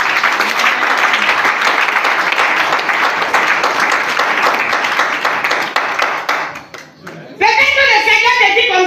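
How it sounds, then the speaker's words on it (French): A church seminar audience applauds and cheers to acclaim the Lord, dense sustained clapping and shouting from a large crowd, fading briefly before a voice rises over music. "Il faut acclamer d'abord le Seigneur."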